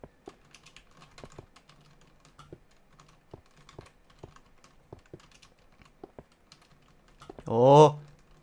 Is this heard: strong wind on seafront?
no